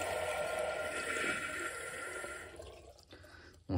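Water runs steadily from a push-button tap while its flow rate is being adjusted, a close, even splash that thins and then cuts off near the end.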